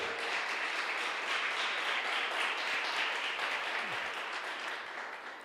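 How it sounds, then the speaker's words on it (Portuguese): A church congregation applauds during a sermon, a steady wash of many hands clapping together from start to finish, fairly distant and even, tapering slightly near the end. "Você pode aplaudir o Senhor?"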